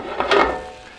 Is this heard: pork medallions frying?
yes